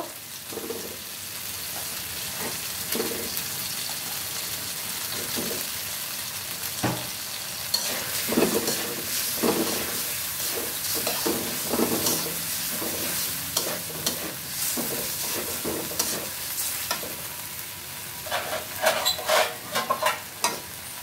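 Fried eggs being stirred into sizzling spice paste for an egg bhuna, with a constant frying hiss and frequent scrapes and taps of a spatula on the pan that grow busier and sharper toward the end.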